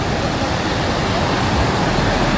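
River water rushes loudly and steadily during the monsoon, a dense, unbroken roar filling the whole clip up close with no voices.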